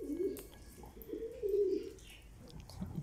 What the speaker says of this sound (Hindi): ये कलों का कबूतर ये कैसे कितना प्यारा कबूतर है